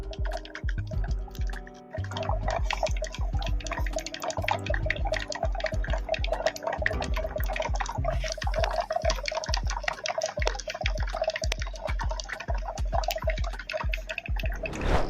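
An air pump bubbling water in a home brine shrimp hatching setup, with close, continuous gurgling and dripping pops in a busy irregular rhythm, fairly loud and alone.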